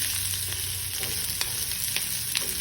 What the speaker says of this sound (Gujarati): સંભારાને થોડી વાર તેલ સાથે મિક્સ કરતા રહો